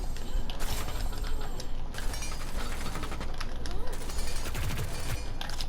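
Rapid automatic fire from a gun in the video game Hyperscape crackles in quick bursts and clicks, mixed with mechanical game effects and spoken commentary over it.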